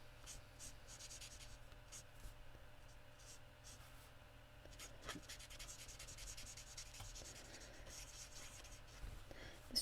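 Broad-nib marker colouring on card, heard as quiet, close scratchy rubbing strokes repeating in short bursts against faint background hiss.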